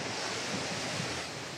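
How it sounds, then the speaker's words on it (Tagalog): Sea waves wash steadily onto the shore at Baler, Aurora, a broad, continuous surf roar mixed with wind buffeting the microphone. "Ito ang dagat."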